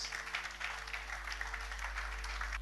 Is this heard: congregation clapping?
yes